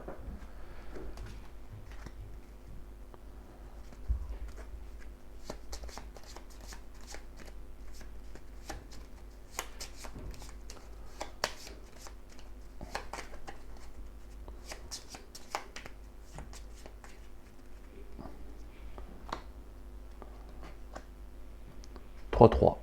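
Playing cards from the Afro Samurai card game being shuffled, riffling in a long series of crisp, close clicks and flutters, with a faint voice murmuring now and then.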